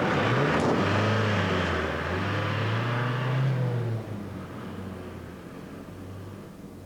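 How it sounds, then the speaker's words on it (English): A getaway truck's engine runs hard, its pitch rising and falling as it revs, then drops suddenly in level as the vehicle pulls away and fades somewhat. No one speaks. "Get the engine running!"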